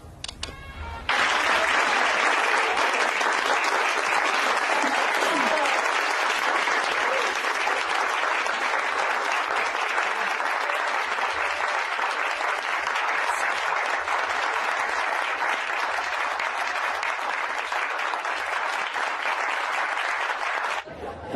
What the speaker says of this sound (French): tu as entendu les applaudissements?